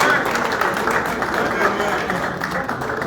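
Audience at a Top Congo anniversary event applauds in a dense, steady wash of clapping that carries on throughout, with some crowd noise mixed in.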